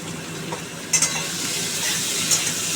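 Potato and papaya pieces fry in a hot pan, a loud continuous sizzle broken by a couple of quick scrapes and clinks of a spoon stirring, heard up close with no voices.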